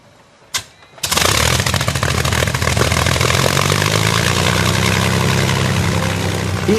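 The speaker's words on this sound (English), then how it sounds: "The Merlin, built by Rolls-Royce, is exactly the same engine which powered the Spitfire and its Battle of Britain partner," A Rolls-Royce Merlin piston engine on a Lancaster bomber coughs with a sharp bang, then catches and settles into a loud, steady rumbling roar that keeps running close by.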